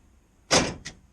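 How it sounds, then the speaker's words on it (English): A key-fob electric lock on a toolbox drawer releases with a sharp motorized whir followed by a quick second click, close and fairly loud against a quiet background. "Drawer is unlocked."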